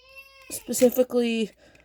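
A young child's high, voiced vocalizing, a squealing babble with a few rising and falling cries, close by and fairly loud.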